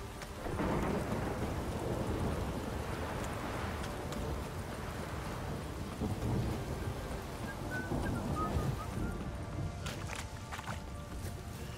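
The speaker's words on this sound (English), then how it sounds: "Oh, it's drizzling." Steady rain and rolling thunder in The Witcher 3: Wild Hunt, a continuous dense wash of falling rain with low rumbles throughout and brief crackling peaks near the end, no talk.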